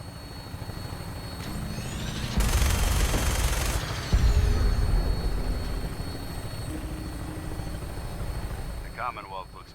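Helicopter flight in the video game Fallout 4, a steady rotor drone throughout with a loud burst of rapid gunfire partway through, and a voice speaking over the engine noise.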